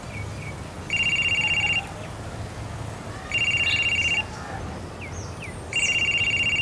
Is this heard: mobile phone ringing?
yes